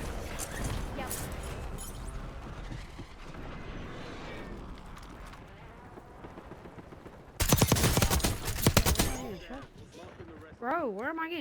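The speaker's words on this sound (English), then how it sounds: "where am I getting shot from?" Warzone gunfire erupts in a loud, dense burst of rapid shots after a stretch of quieter game sounds, followed by a few scattered pops, with a player talking over the action.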